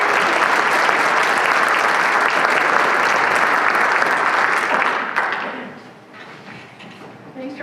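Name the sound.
audience applause at a panel discussion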